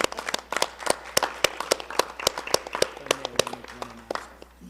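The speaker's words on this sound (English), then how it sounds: "I see a round of applause has started" Applause from an audience at a school committee meeting, a sparse patter of individual claps, moderately near, with faint voices and a low hum joining toward the end.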